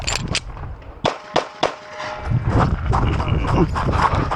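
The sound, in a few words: pistol gunshots at IDPA shooting match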